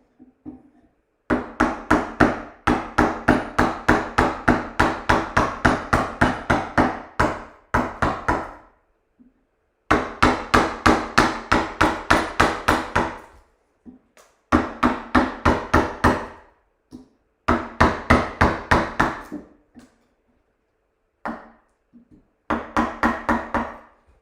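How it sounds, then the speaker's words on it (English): Wooden mallet striking a carving chisel into clamped wood: bursts of rapid, evenly spaced sharp knocks, loud and close, separated by short pauses. "give stuff a bash with a mallet when you can"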